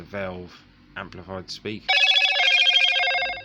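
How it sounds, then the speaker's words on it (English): A mobile phone rings indoors during a vintage Braun SK2/2 radio repair: someone talks briefly, then a loud, close, bright electronic ringtone cuts in abruptly and sounds steadily alone for about a second and a half before stopping. "Sorry about that, that's my phone going off."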